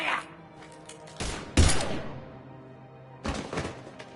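Gunfire in Mass Effect 3 comes as a few heavy, close shots and thuds, one louder blast in the middle and another burst near the end, with quieter gaps between.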